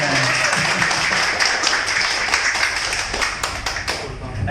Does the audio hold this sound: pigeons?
no